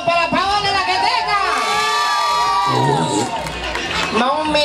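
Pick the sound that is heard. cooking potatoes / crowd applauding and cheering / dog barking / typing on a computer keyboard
crowd applauding and cheering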